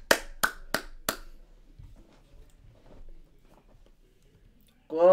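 Four sharp, evenly spaced hand claps ring out loud and close in the first second, followed by a quiet room and a burst of speech at the very end.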